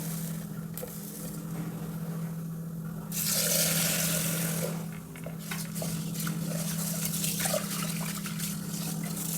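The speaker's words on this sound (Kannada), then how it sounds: "ಇದನ್ನೆಲ್ಲ ಚೆಲ್ಬಿಟ್ಟು ನೀರನ್ನೆಲ್ಲ ಈಗ ಫ್ರೆಶ್ ನೀರು ಹಾಕಿ ತೊಳೆ ಇಡ್ತೀನಿ" Roasted horse gram is washed in water, with continuous trickling and sloshing that swells into a louder splashing pour midway, then settles back to a steady wash.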